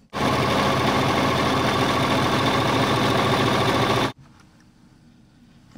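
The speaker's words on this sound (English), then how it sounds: "First, we're just going to sew a straight stitch down both sides." A sewing machine running a straight stitch down the side of a fabric shopping bag, whirring loud and steady for about four seconds before abruptly stopping, leaving quiet room noise.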